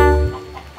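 Free-range hens in a winter garden give a brief, close cluck followed by softer background clucking, with no voices present.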